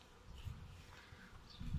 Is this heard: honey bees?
yes